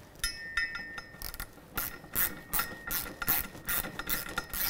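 A quarter-inch socket ratchet snugs a parking brake cable bracket bolt on a 2013-2018 Toyota RAV4, giving bursts of quick close clicking strokes with short pauses between them.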